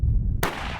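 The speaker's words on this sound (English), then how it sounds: "If it stops, you can shoot him again." A single loud rifle shot rings out during an African hunt, a sharp broadband crack followed by a rolling echoing tail, preceded by low rumbling ambient noise.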